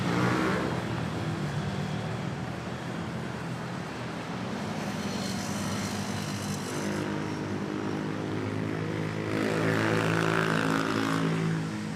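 A Philippine Airlines airliner from Osaka touches down at Manila Airport, its engine roar rising and falling at a moderate distance, with a swell of reverse-thrust rush toward the end.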